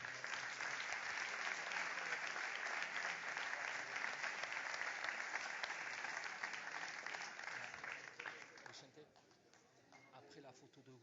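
Audience applause after a sports team is called up at a 2024 champions trophy ceremony, steady dense clapping from a crowd that thins and fades toward the end.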